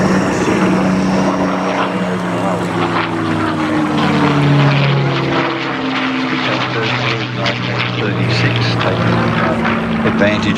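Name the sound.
Hawker Hurricane propeller aircraft flying at an airshow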